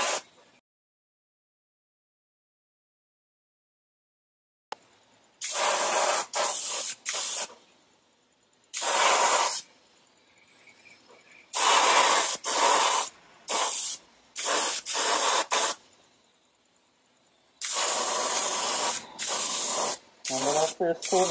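Bursts of spray paint hiss out of a can as a light coat goes on for hydrodipping, in repeated short blasts separated by pauses, loud and close, after a silent opening.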